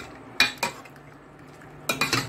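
A spoon stirs potato and egg masala curry in a metal pot after salt goes in, giving a couple of sharp scraping clinks, a quiet pause, then a quick cluster of clattering strokes, close and clear.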